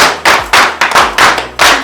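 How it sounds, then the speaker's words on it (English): A crowd gives a big clap at a solidarity gathering in Kenya, sounding as several loud, separate bursts of clapping in an uneven rhythm, close and filling the room with no talk. "another big clap"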